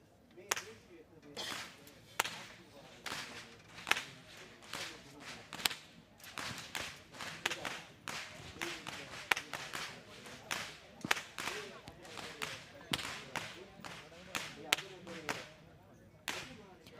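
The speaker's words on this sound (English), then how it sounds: "Walking up front with the sound of thundering whips piercing through the skies are the whip crackers announcing that the procession has commenced" Whip crackers leading the Kandy Esala Perahera procession send out sharp, loud cracks in a fast, irregular run, with a narrator speaking over the cracking.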